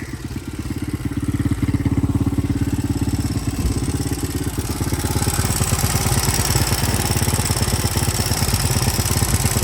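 A 1983 Honda XR200R motorcycle engine, woken after sitting for years, idles steadily with a rapid, even pulse and a light metallic valve chatter over it, close and fairly loud throughout.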